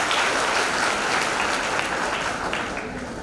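Audience applause welcomes a speaker onto the stage at an anti-drug campaign event in Bikaner, a dense steady clapping that carries for about three seconds and eases slightly at the end.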